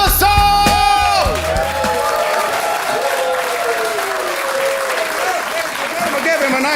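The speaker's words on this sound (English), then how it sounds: "Give him a nice round of applause." A comedy-special audience claps and cheers for a comedian as he takes the stage, loud applause with whoops and shouts, and a brief burst of music at the start.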